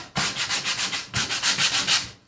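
Hand sanding of a painted surface to distress it, close and steady back-and-forth rubbing strokes in an even rhythm, about eight quick passes with a brief pause midway.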